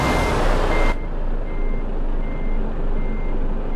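Simulated truck in Euro Truck Simulator 2 shifting into reverse, with a steady, repeating reversing alarm beeping over low engine rumble after a loud burst of road noise cuts off.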